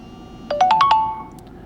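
A short phone alert from the AccuBattery app on a Samsung Galaxy A41 plays five quick rising electronic notes, clear and close, lasting under a second.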